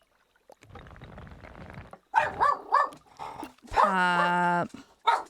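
A puppy barks and yips in a room: a few short sharp barks, then a long drawn-out whining howl and one more yip, following a stretch of quiet rustling.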